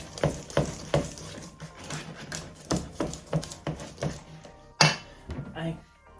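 Blueberry muffin batter is mixed with a cup of milk in a bowl, giving a run of close, rhythmic scraping and sloshing strokes, with a sharper knock near the end before the stirring slows.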